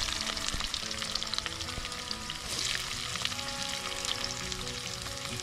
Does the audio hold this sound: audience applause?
no